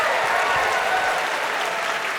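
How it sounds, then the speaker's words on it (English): Audience applause at a live comedy show, a dense, steady wash of clapping that holds loud and close for about two seconds before easing slightly. "Give a round of applause if you think Speedo could win the Kentucky Derby."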